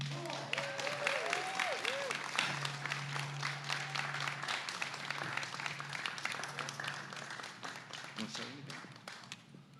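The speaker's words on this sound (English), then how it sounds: "Let's hear a cheer for Ricard Jensen." Audience clapping and cheering at a Veterans Day parade and ceremony, a steady wash of applause from a gathered crowd lasting throughout, with a low hum and some faint voices underneath.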